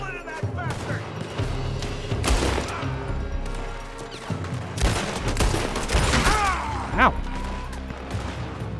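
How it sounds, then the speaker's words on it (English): A Red Dead Redemption II shootout fills the scene with loud, close volleys of gunshots and crashing impacts in irregular bursts, while voices speak and a pained grunt cuts through the fire. "They're shooting from that building."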